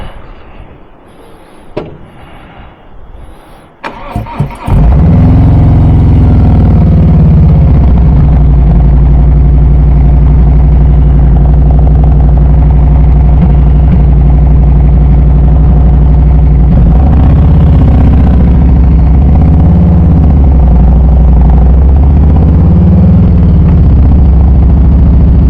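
A 2022 Harley Davidson Street Glide motorcycle engine fires up after a few clicks and handling noises, then settles into a loud, deep, steady idle with a couple of brief throttle swells near the end.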